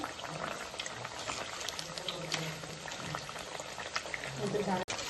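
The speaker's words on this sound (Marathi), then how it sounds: "तर आता पुन्हा मी मीडियम फ्लेमवर करत आहे आलुवडी पलटून घेऊया" Alu vadi (colocasia leaf rolls) fry in oil over a medium flame, a soft bubbling hiss running steadily with a sharp click near the end.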